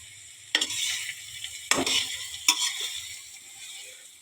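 Onions frying in a pan give a bright, hissing sizzle, broken by several sharp scraping clatters of stirring.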